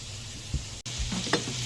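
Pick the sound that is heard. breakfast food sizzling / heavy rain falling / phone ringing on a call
breakfast food sizzling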